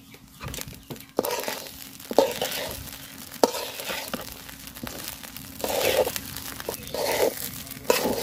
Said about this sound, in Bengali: তো চাউলটা আমি সুন্দর করে ভাজা নিছি, একদম জর্জরা হয়ে গেছে